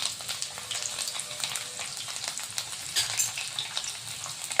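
Twelve peeled garlic cloves fry in hot oil in a kadhai, giving a steady, bright, crackling sizzle with small pops. The sound is close and continuous, and no one talks.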